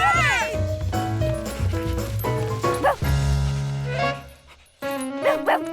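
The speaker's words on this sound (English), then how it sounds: "It's that dog again!" Cartoon dog from Curious George barking and yipping over busy background music, with excited yelps and a whimpering cry, plus brief speech-like vocal sounds.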